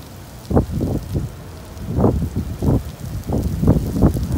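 Steady heavy rain noise in Saudi Arabia with repeated low thumping bursts, like wind buffeting or heavy drops hitting nearby, continuous throughout.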